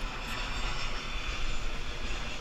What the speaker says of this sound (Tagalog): may aeroplano pa tayong nakita paglabas natin